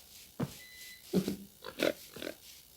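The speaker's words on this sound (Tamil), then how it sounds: "இந்த பன்னிக்குட்டி வேறு." A pig in the Minecraft survival game gives four short oinks spaced about half a second apart, close and clear against a quiet background.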